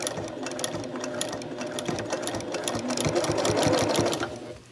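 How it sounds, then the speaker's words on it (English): A sewing machine stitches binding onto a quilt, humming steadily with a rapid needle patter. It runs close and continuous throughout and builds slightly louder toward the end before stopping. "And then you can stitch it on the other side."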